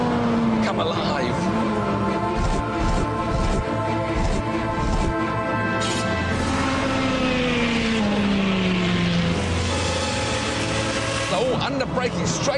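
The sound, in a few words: Ferrari F430 Scuderia engine at full throttle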